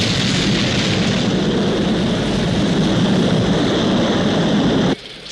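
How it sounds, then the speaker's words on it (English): A rocket lifts off at launch with a loud, continuous broadband roar that holds steady and then cuts off abruptly. "We have liftoff."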